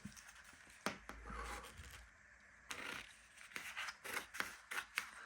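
Scissors cutting through a sheet of A4 paper in a series of partial cuts, giving close, crisp snips and slicing scrapes in irregular bursts with short pauses between.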